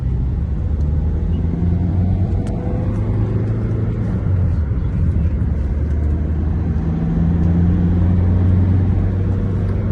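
A 2008 Ford Focus driving on the road gives a steady, loud low rumble of engine and road noise from inside the cabin, with no talk over it.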